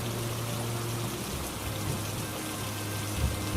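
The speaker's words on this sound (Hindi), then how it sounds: "तेज तूफान आंधी और बारिश शुरू हो गई" Heavy rain pours steadily in a cartoon storm, a dense continuous hiss with a low droning hum beneath it, loud and unbroken.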